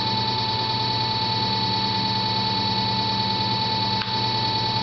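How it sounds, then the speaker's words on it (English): A 60V electric bike motor keeps spinning on cruise control with the throttle released, giving a steady, close whine with constant tonal hum and no talk. "So throttle's off right now, and the motor's still rotating."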